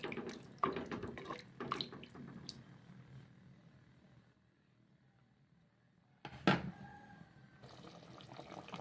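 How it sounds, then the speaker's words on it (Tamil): A tamarind, masala and tomato mixture poured into a pan for oil brinjal kuzhambu, with soft splashing and sloshing in bursts, a quiet lull, then another brief pour. "புளி, மசாலா, தக்காளி இந்த கரைசலையில் ஊற்றலாம்."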